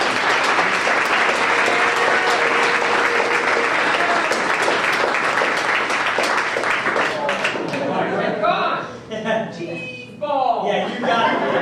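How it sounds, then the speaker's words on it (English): A dense round of applause fills a high school sports banquet hall, steady and loud for several seconds, with scattered laughter and voices as the clapping tapers off toward the end. "So let's give Adam a round of applause."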